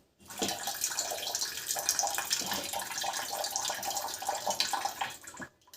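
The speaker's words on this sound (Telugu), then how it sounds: "ఇప్పుడు మనము ఇక్కడ వాల్ ఆన్ చేసుకొని కొంచెం వాటర్ అనేది తీసేసేయాలి." Water gushes from an RO filter tap to flush out sediment, a continuous close splashing rush that starts abruptly, runs steadily and cuts off at the end.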